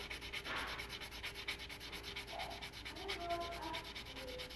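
Light, rhythmic rubbing strokes of sandpaper smoothing a mold line on a resin 1/6 scale garage kit figure, faint and close with gentle pressure, repeating evenly with no talking.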